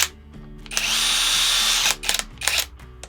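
A WAKYME brushless impact wrench runs in one loud, continuous whirring burst of about a second, followed by a couple of short, sharp blips of the motor. No one speaks.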